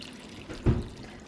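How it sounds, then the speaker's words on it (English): Water pours into a jug of kimchi vegetables, a short gurgling splash that swells briefly and then settles back to a quiet background. "but we're just adding the water."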